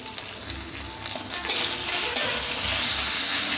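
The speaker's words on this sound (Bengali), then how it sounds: "ভালো করে নাড়াচাড়া করে নেব" Spices with ginger paste and turmeric frying in a pan, a steady broadband sizzle with occasional sharper spits and scraping stirs, close and continuous throughout, no voices.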